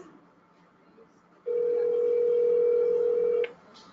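A telephone dial tone plays as a call is placed from an office: a single steady tone holds for about two seconds and then cuts off, with quiet room sound before and after it.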